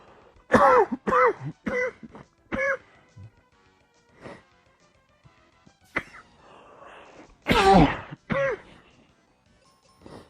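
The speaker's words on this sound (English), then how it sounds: "those coughs were going to be like the loudest things that I've done the whole video" Several sharp coughs and throat clearings from a single person, loud and close, arriving in quick bursts with short pauses between them and a final loud pair near the end.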